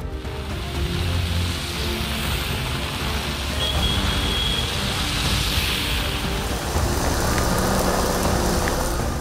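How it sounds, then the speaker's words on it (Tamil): Heavy rain pours onto suburban streets in Chennai, a dense, continuous wash of noise mixed with passing vehicle traffic. "சென்னை புறநகர் சுற்றுவட்டார பகுதிகளில் பரவலாக மழை பெய்தது"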